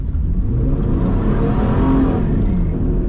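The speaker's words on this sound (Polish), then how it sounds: "To na jedno koło zrywa, czy tak?" A Ford Mustang S-197 accelerating hard with one wheel spinning, a loud, close engine roar that builds steadily for a few seconds.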